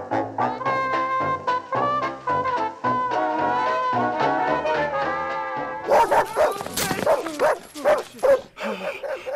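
A dog in a movie barks and whimpers, with yips and whines rising over a music score and then taking over in the second half, fairly loud and close.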